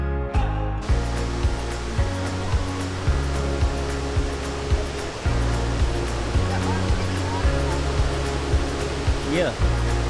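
Bluehole Falls waterfall roars steadily and loudly from close by, a continuous rushing wash of water that fills the whole stretch without pause.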